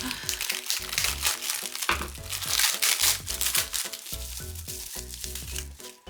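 Plastic packaging around a Japanese magazine crinkles and crackles up close, with dense, irregular bursts of handling noise throughout.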